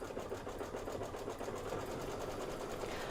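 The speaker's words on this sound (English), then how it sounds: "this is going to be 7 minutes of stitching" An embroidery sewing machine stitches a design during a Kimberbell sew-along, producing a fast, steady mechanical whirring with rhythmic needle pulses, close and continuous with no speech.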